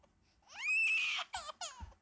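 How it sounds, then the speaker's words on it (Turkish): A baby cries in rising, wailing bursts, one long drawn-out cry followed by shorter sobbing gasps, close and clear. "Ya bebek ağlıyor, onu bile zor duyurum ya"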